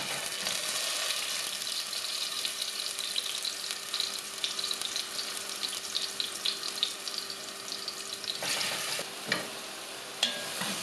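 Oil sizzles steadily in a pot while eggplant fries and is stirred, with soft scraping and a few clinks near the end, no talking.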